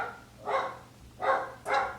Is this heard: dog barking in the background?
yes